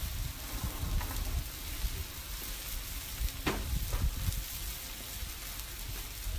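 Rice mixed with salsa sizzles steadily on a hot Blackstone griddle, a constant soft crackle with occasional louder pops and stirring scrapes, fairly quiet and with no talking.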